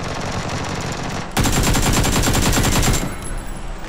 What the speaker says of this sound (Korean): 근데 총이 총소리가 왜 그래요? 아 왜 벡터 들었어요?